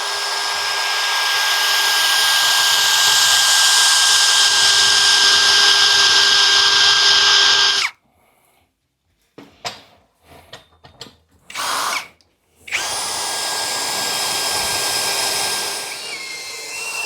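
A hole saw on a power drill running at slow speed cuts through metal while customizing a 1941 Mercury, a steady loud whine lasting several seconds, then stopping for a few stuttering bursts before running steadily again.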